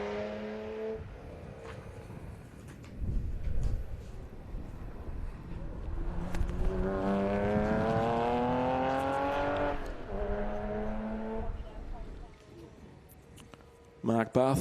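A Porsche 914/6 fitted with a 3.6-litre flat-six leaves the start line at a historic sprint meeting. Its engine revs climb in rising sweeps through the gears while a commentator talks over it.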